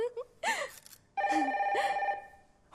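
Electronic telephone ringing at an FM radio station in a Telugu film scene, one short ring then a longer sustained trill, fairly close and clear, with a brief voice sound before it.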